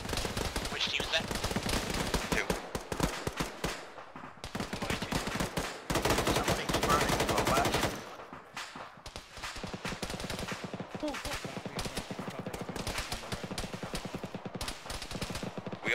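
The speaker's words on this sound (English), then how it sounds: "We also have a BTR shooting at us from the southeast." Heavy gunfire from a BTR armored vehicle in a military video game, delivered in dense, loud rolling bursts with brief lulls, while voices talk underneath.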